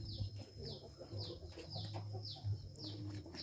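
Fighting-breed chickens cluck and chirp softly in a regular, repeating pattern with low bird calls underneath, faint and fairly close, with no talk.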